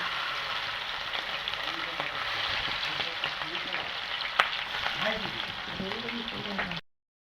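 Fish bones fry in a pan with a steady, close, dense sizzle that holds for about seven seconds before it cuts off abruptly.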